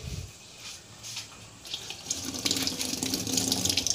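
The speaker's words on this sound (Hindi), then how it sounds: "हम टोटी को ऑन कर देंगे और ये पानी" Tap water runs into the tub of a semi-automatic washing machine being cleaned. It starts as a faint trickle and swells into a louder, steady splashing rush toward the end.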